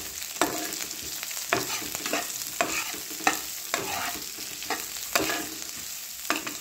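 Rice and long sliced onions frying in a pan on a low gas stove, stirred with a spoon: steady sizzle under repeated scraping strokes against the pan, close and fairly loud, with no talking.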